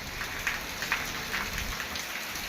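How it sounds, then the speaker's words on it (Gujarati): Steady, dense rain pours down and patters on surfaces in Porbandar, a constant hiss with scattered sharper drops, no voices. "બે દિવસે આવો ને આવો વરસે વરસાદ"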